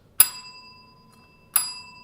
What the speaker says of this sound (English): For the last time this season, we get the bell.